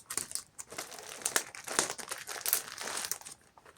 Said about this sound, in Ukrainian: Ну, вже я пакет не розпакувала, роздерла його